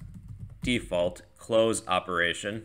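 Keys clack on a computer keyboard in quick bursts while someone speaks over them, the typing partly mixed under his voice.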